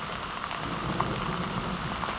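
Steady rain falls outdoors during a wild mushroom foraging trip, a dense, even hiss with no pauses and no voices.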